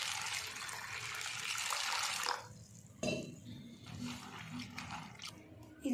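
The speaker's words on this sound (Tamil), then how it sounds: "இதை ஒரு டைம் வாஷ் பண்ணி எடுத்துக்கலாம்." Water splashing and swishing as ration toor dal lentils are washed in a mixing bowl, a loud sloshing burst followed by quieter drips and clinks against the bowl.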